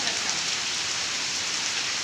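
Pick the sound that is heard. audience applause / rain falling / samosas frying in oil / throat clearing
rain falling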